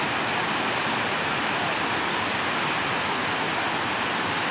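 Water overflowing the spillway of Mamchari Dam pours over stones in a steady, dense rushing roar, loud and close, with no pauses or voices.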